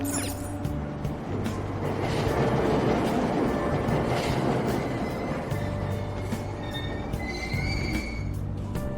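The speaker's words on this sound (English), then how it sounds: "Train doors are now closing. Please stand back." A commuter train at Aoyama-Itchome station in Persona 5 Royal pulls away with a steady, rumbling roll and clattering wheels, ending with faint metallic squeals as it moves off.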